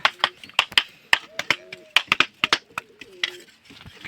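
Pigeons being placed into a wooden nesting box give soft, low coos among sharp clicks and wooden knocks and taps, with quiet talk nearby.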